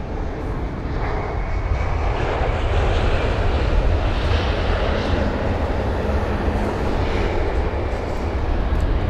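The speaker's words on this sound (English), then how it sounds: "So you've got the BA Jets, that is the A320-200 from Zurich" A British Airways Airbus A320-200 jet on a 13-year-old airframe lands at London Heathrow, a steady, loud, broadband engine roar with a low rumble that holds evenly throughout, with no talking.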